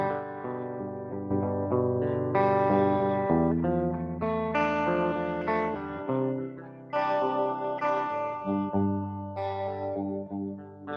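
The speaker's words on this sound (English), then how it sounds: "How about a phantom tremolo? So this is going to give you a much different sound." A phantom tremolo effect is applied to sustained electronic chords that pulse and shift in a steady stereo left-right sweep, played alone without any talking.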